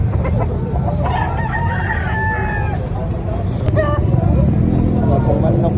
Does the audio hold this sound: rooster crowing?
yes